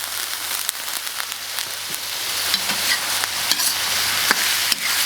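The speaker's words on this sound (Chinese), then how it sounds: "我们建议要把这个肥油煸炒出来啊" Lamb stir-fried in a wok to render out its fat, giving a close, dense sizzle broken by sharp scraping and clacking of the spatula, growing slightly louder toward the end, with no talking.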